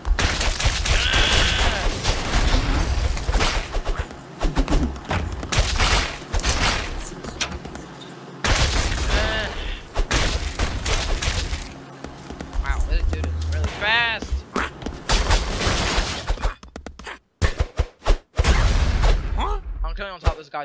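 Gunfire in The Expendabros, a 2D action video game, crackles in dense bursts and volleys alongside loud game music and effects, with someone talking over much of it.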